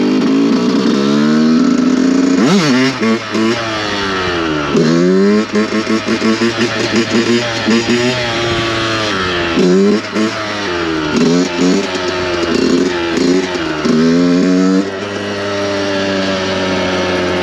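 A Yamaha YZ 125 two-stroke motocross bike revs hard and repeatedly, its engine note rising and dropping in sharp, loud bursts as the rider pulls a wheelie up close, with no talking.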